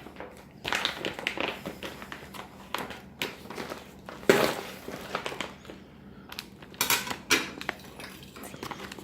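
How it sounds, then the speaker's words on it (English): Indian kukri knife cutting open dry ration packaging, with irregular taps, scrapes and crinkles coming close up, plus a sharper clack partway through. "So we're going to go with our Indian kukri, and we're just going to slice everything open with that from now on"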